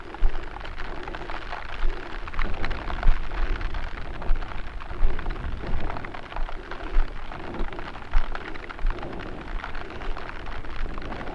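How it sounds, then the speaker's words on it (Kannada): Heavy rain pours down in a dense, continuous roar with gusty surges and scattered louder drops, no voices, at a hilltop viewpoint during a motorbike ride. "ಮಳೆ ಕೂಡ ಜೋರು ಬಂತು"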